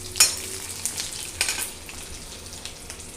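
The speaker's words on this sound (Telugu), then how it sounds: "దంచి పెట్టుకున్న వెల్లుల్లి రెమ్మలు వేస్తున్నానండి." Crushed garlic cloves dropped into hot oil for a tempering, crackling and sizzling close up, with a sharp splash at the start and another burst about a second later before settling into steady frying.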